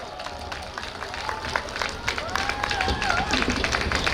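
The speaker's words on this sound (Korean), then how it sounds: "큰 박수 부탁드리겠습니다" A crowd at a Democratic Party presidential campaign launch rally in Suncheon, South Korea, claps in steady, scattered applause while a voice carries on over it, the clapping growing slightly louder.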